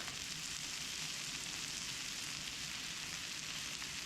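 Flour cooks down in a pan with sausage and red and green peppers, making a soft, even, continuous sizzle that is fairly faint and close, with no talking.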